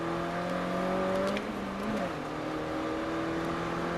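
A car engine hums steadily, its pitch sliding and shifting as it accelerates, then settling into a sustained drone; no voices.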